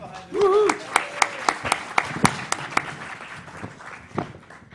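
After a brief voice at the start, a small group claps in distinct, spaced hits that grow sparser and fade, near and moderately loud.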